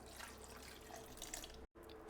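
One cup of water poured into a mixer jar holding a cup of leftover cooked rice: a soft, steady pouring trickle, fairly quiet and close, broken by a brief cut near the end.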